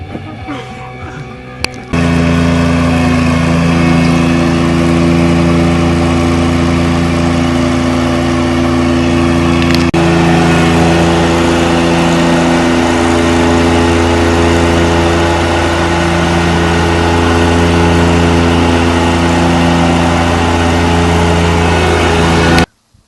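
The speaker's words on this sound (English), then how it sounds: "the roar of the mower is too loud for us to, be able to tell." A lawn mower engine roars loud and close, a steady heavy drone that starts abruptly after a couple of seconds, holds for about twenty seconds and cuts off sharply.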